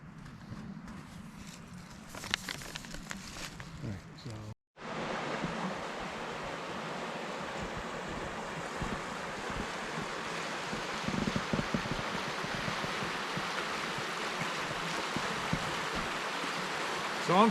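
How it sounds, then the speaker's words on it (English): A creek runs through part of an old canal at Buckhorn Mill, giving a steady broadband rush of flowing water after a few seconds of fainter rustling and footsteps-like shuffling at the start. "the creek is actually flowing through part of the old canal."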